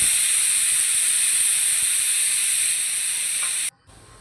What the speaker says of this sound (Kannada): ಕುಕ್ಕರ್ ಇಡ್ಲಂಗೆ ಕ್ಲೋಸ್ ಮಾಡಿ ಆರು ವಿಷಲ್ ತೆಗಿತಾ ಇದ್ದೀನಿ